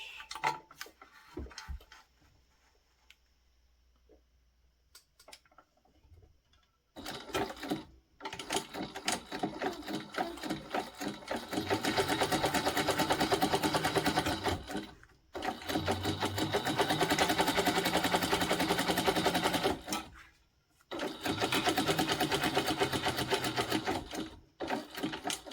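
A sewing machine top stitching a bag runs in bursts, close and loud, with a brief rattle early on then long steady whirring runs separated by short pauses.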